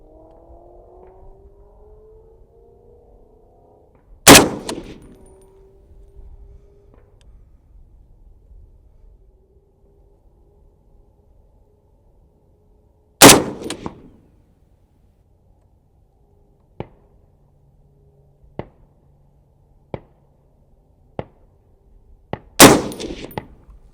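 FN SCAR 17 rifle firing Federal Sierra MatchKing 168 grain rounds at a range: three loud, sharp reports spaced several seconds apart, with fainter distant cracks and metallic pings between them.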